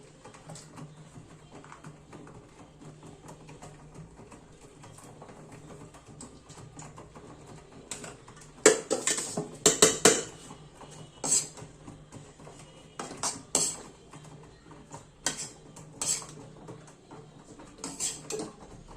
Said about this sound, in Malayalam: നമുക്ക് ക്യാരറ്റ് ഇടാം.